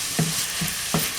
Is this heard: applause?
no